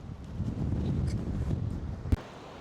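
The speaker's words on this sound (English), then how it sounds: "It's really windy. That wind coming off the sea is cold." Cold wind coming off the sea buffets the microphone on a coastal clifftop path in Cornwall, a steady low rumbling gust lasting a couple of seconds with a brief sharp knock near the end.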